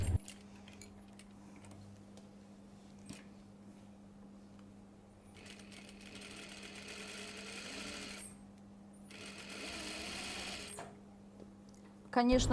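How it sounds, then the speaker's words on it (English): A sewing machine stitches the seam of a cashmere jacket in two steady runs of rapid mechanical whirring, separated by a pause, over a low constant hum with a few small ticks and clicks. "I can start stitching now."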